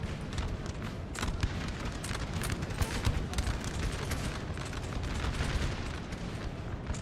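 Volleys of musket fire crackle densely and continuously in a Napoleonic Total War battle, a far-off roll of many overlapping shots with booms mixed in, steady throughout.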